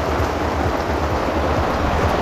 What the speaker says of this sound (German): weil der Regen sehr, sehr, sehr, sehr, sehr stark ist